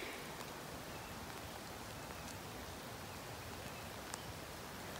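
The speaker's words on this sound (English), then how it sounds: "It's raining and pouring like so much." Heavy rain pours down outdoors during a hard shower, a dense, even hiss of falling water with scattered faint drop ticks, steady and moderately quiet throughout with no voices.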